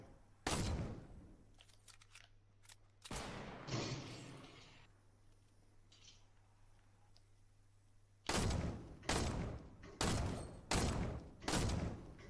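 Video game gunfire bursts out in sharp, loud cracks, first a few scattered shots, then a quieter stretch with a low hum, and finally a rapid run of five heavy blasts close together.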